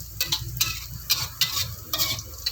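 Garlic, shallots and chili stir-fried in a wok: a constant close sizzle with repeated sharp scraping strokes of a spatula against the metal, no voices.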